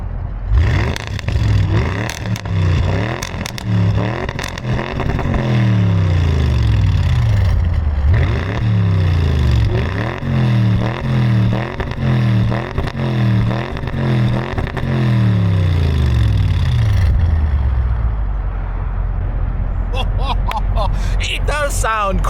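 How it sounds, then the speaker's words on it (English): Audi RS6 with an aftermarket exhaust, revved repeatedly in loud, rising and falling bursts with crackling throttle blips, close up, before the engine drops back to a low idle. "It sounds so good, but that is the aftermarket exhaust, so it doesn't actually sound like that stock"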